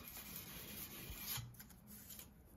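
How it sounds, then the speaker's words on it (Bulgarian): Sandpaper rubs back and forth over a knife blade being polished toward a mirror finish, a quiet, continuous rasping scrape heard alone. "И се започва полиране на ножа с шкурката."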